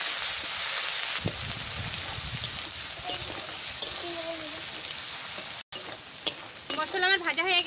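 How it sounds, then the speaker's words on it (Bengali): Ground spice paste with bay leaf and cumin sizzles steadily in hot oil in a pan, a continuous close frying hiss with occasional stirring scrapes and brief background voices. "মশলা আমার ভাজা হয়ে গেছে, লাল লাল করে ভেজে নিচ্ছি।"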